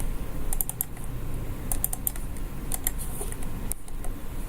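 Keys clatter on a computer keyboard in short, irregular bursts of typing, close up over a steady background hum.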